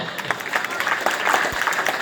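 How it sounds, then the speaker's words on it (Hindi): Audience clapping at a Hindi poetry gathering (kavi sammelan) in Badnawar, a steady crackling patter of many hands throughout, moderately loud with no clear talk over it. "ताली बजा के बताओ।"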